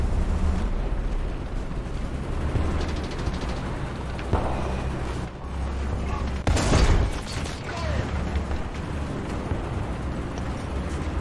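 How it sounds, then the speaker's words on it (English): A big bomb explodes in a War Thunder battle, a sudden loud blast that rises sharply out of a constant rumbling battlefield din and then tails off into the noise. "Big bomb."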